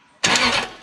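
Toyota 3UZ V8 engine cranking, started by touching a wire in place of a start relay: a sudden loud burst of starter and engine noise that fades quickly within a second.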